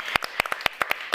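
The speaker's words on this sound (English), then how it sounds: "So a great hand of applause to everyone." A small audience at the close of an event claps, only a few people producing sharp, separate hand claps in an uneven rhythm, near and fairly loud, with no one speaking.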